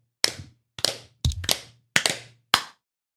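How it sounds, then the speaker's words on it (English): Podcast hosts clap to sync their audio, producing six sharp, close hand claps in a loose, uneven rhythm against silence, with two claps landing nearly together. "you clap 4 times afterwards"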